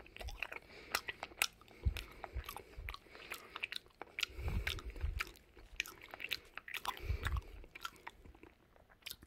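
Raw yellowtail sashimi is chewed close to the microphone, with soft, wet, squishy bites and rhythmic mastication repeating quietly over several seconds, with no talk.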